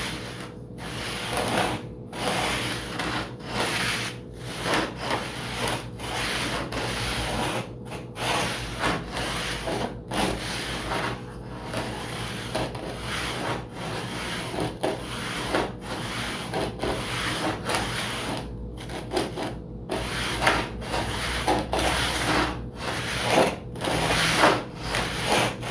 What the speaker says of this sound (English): I'm just gliding the T-bar sander. I'm not pushing down on it. I'm just letting the T-bar sander do the work.